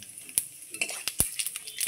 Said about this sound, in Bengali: এখন আমি এই মাছ ভাজা তেলের মধ্যে ফোড়নে দিচ্ছি একটা তেজপাতা